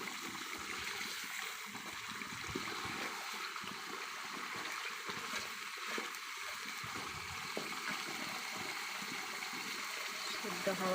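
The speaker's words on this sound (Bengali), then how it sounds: "সিদ্ধ হওয়ার জন্য দিয়ে দিচ্ছি ঝোল।" Hot water pours steadily into a pot of browned mutton curry, a continuous close splashing, gurgling stream that keeps a fairly even level throughout.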